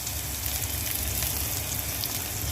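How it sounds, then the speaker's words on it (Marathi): Chopped onion frying in hot oil for a methi dish, a steady dense sizzle close by, continuous and fairly loud without pause. "कांदा टाकून चांगला भाजून घेणार आहे."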